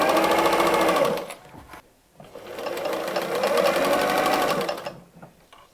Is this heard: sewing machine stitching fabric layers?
yes